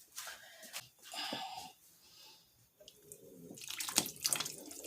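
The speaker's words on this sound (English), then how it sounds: "I'm going to add more water to this because it's kind of thick" Water poured into a thick vegan pasteles filling in a kitchen, heard as short bursts of pouring and splashing with a louder stream near the end, with no talking.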